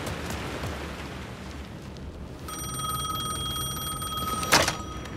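A telephone bell in the video game Alan Wake 2 begins ringing midway over a low ambient hum, a steady metallic trill, then a brief bright burst near the end.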